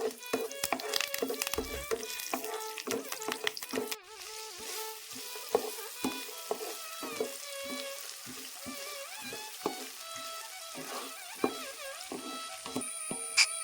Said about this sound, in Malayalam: നമ്മൾ ഇഞ്ചി, വെളുത്തുള്ളി, പച്ചമുളക് ഇട്ട് ഒന്ന് അതിൻ്റെ പച്ചമണം മാറണ വരെ ഒന്ന് വഴറ്റി കൊടുക്കുകയാണ് കേട്ടോ.